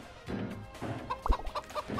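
A chicken in the game Moving Out gives a string of short, sharp clucks and squawks in quick irregular bursts, fairly close and moderately loud.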